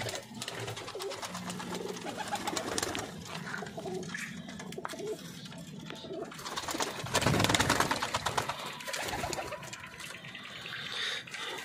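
Soft pigeon cooing mixed with a busy background of rustling and water-like noise, with a louder burst of activity partway through.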